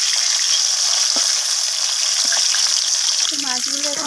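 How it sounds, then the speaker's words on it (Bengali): Fish frying in hot oil in a pan, a loud, dense, continuous sizzle throughout, with a few light clinks and a brief voice near the end. "মাছগুলো এখানে বেশি লালচে করে ভাজা হয়ে গেছে, আমি তেল থেকে তুলে নিচ্ছি।"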